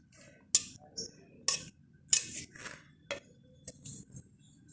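A spoon mixes paneer, grated carrot and fenugreek paratha filling in a bowl, making about six sharp separate clinks against the bowl, close and quiet, with little else between them.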